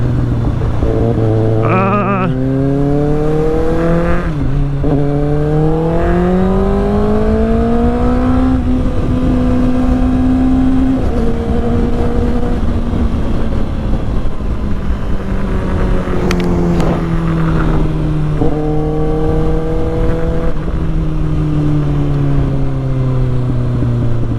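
Kawasaki ZX6R motorcycle ridden along Sunset in Los Angeles, its engine droning steadily and close with repeated rises and falls in pitch as it revs through gears, with wind rush throughout.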